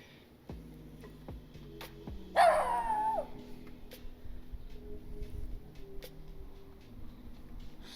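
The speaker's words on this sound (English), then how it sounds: "Stop barking." A dog gives one sharp, fairly close bark amid faint clicks and knocks from a light-bar installation, followed by low background rustling.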